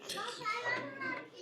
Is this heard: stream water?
no